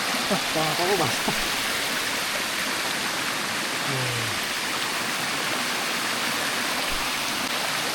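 A mountain river stream flowing on the Prakasak hiking trail, a constant hissing rush of water close by, with a few brief voices near the start.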